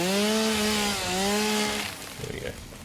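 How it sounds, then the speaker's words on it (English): In the video game Satisfactory, a chainsaw starts up with a loud, close buzzing whine that rises and drops in pitch, then gives way to rough rasping cutting and crunching noises. "so now we can fire up our chainsaw"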